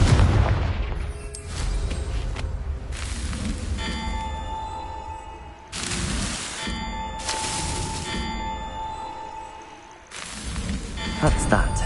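Confringo spell explosions in Hogwarts Legacy, a series of loud bursting blasts spaced a second or two apart over a steady game backdrop, with crackling tails after each one.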